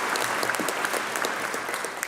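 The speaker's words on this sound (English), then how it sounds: "I'm clapping on that one." An audience claps steadily through a joint session of a state legislature, dense sustained applause filling a large chamber without speech.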